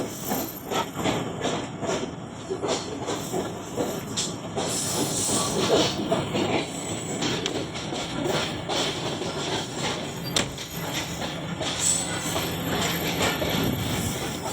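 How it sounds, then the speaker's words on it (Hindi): Hazara Express standing at a town station platform, a loud steady hiss of air or steam with clanking, rumbling carriage noise and occasional sharp metallic squeals, no speech. "और ये है हज़ारा एक्सप्रेस"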